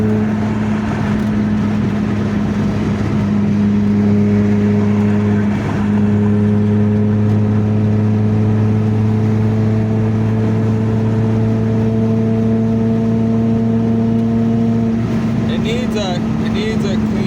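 A tuned, fully built car engine revs loudly and close by, holding a strong steady drone with a rising pitch before dropping off near the end, continuous throughout with no voices heard.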